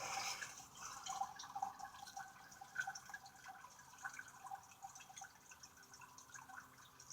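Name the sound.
water dripping from rain barrel overflow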